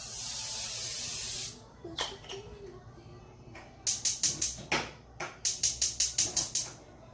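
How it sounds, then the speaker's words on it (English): A long hissing spray of Pam cooking spray, then after a pause a rapid series of short spritzing bursts, close and clear. "Pam cooking spray."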